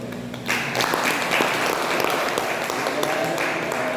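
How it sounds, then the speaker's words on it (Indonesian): Audience applause at an alumni fellowship gathering, a dense burst of clapping that starts abruptly after a brief pause and holds steady and loud for several seconds, with faint voices mixed in. "Kita berikan aplaus."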